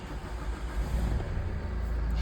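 Ford S-Max engine cranking and running steadily at idle, a continuous low rumble heard close up with no voices.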